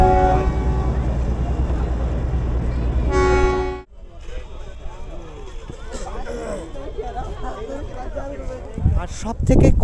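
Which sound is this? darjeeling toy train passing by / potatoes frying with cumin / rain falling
darjeeling toy train passing by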